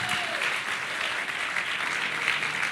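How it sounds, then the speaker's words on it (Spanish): A church congregation applauds during a sermon with sustained, even, dense clapping from many hands throughout. "Alguien puede aplaudir a ese Dios todos los días"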